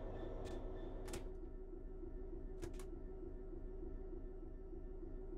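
A cab door on a Class 66 locomotive in Train Sim World 3 opening with a few short, sharp clicks and latch knocks spread over a few seconds, heard above a steady low engine hum.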